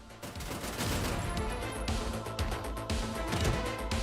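Cannon fire in the side-scrolling game Terminator 2D: No Fate, a continuous roar of rapid booming blasts and clattering impacts layered over game music, steady and loud throughout.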